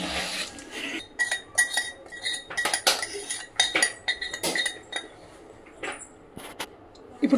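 A spoon stirs tempering into a bowl of instant mango and ginger pickle, making irregular clinks and scrapes against the dish with soft squishy pauses, close and alone.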